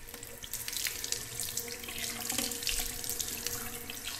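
Hot tap water runs steadily into a sink for a face rinse during a traditional wet shave with a Muhle R41 safety razor. The flow is a continuous, close rushing splash with no voices.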